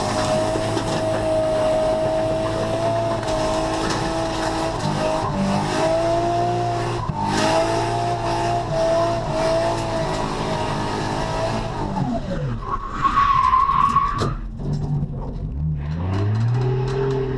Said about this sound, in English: Gonna end it off with a nice 4th gear skid to conclude the event.